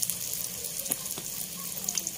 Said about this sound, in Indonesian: Potong nipis-nipis, goreng.